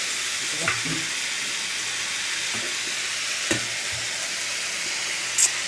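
Turmeric, chili powder, ground coriander, ground cumin and ginger paste fry in a pan with a steady close sizzle, broken by a few soft clinks of stirring.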